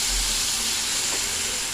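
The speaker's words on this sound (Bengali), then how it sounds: "এবারে কষানো হয়ে গেছে, এবারে জল দিয়ে দেবো।" Water is poured into a hot pan of spiced small mourala fish chochchori, and a loud, steady steam hiss and sizzle fills the close foreground without letting up.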